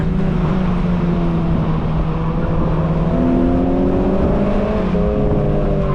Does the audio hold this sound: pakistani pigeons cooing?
no